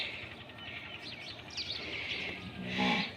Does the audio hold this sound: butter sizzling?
no